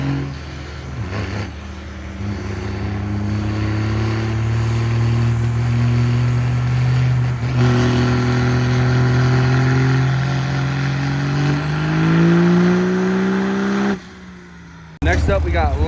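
Second-generation diesel pickup truck on a dirt drag track, engine note climbing steadily through long pulls as it accelerates away, then cutting off abruptly near the end; loud and fairly close.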